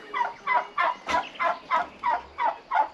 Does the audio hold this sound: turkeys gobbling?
yes